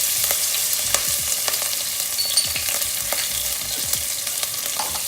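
Curry leaves and green chilies sizzling hard in hot oil, a bright continuous crackle with scattered sharp pops and the occasional stir of a spoon, close and loud with no voices.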